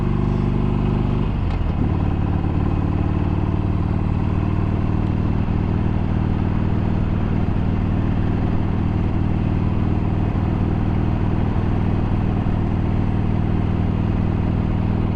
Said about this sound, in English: I'm riding on a Harley-Davidson Sportster 48 2014 model.